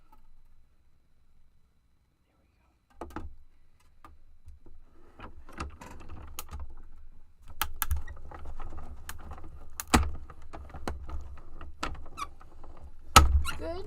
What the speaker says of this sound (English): We're going to die cut our lovely stitched heart right there on the edge.